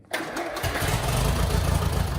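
A 1939 Farmall F20 tractor engine cranks and catches, then settles into a loud, steady running rumble close by, with no talking.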